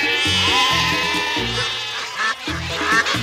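Sheep bleating from a toy device's sheep-lure mode, a loud, wavering electronic bleat that carries on for nearly the whole moment with a bright, harmonic-rich tone.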